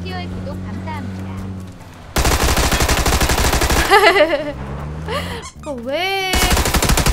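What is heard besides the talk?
Tommy gun firing while riding, from a video game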